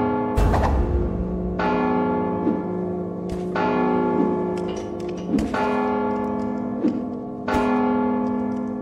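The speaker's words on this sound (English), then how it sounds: "Don't you hear the bell?" A bell in Mark of the Ninja Remastered tolls five times at slow, slightly uneven intervals, each strike loud and close with a long ringing tail that carries into the next.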